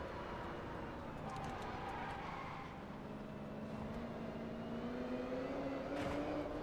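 A car cruises in the racing game Test Drive Unlimited Solar Crown, its engine a steady, faint hum whose pitch climbs slowly as it accelerates, with no other sounds standing out.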